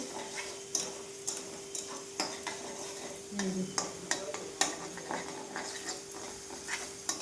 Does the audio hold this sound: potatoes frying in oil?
yes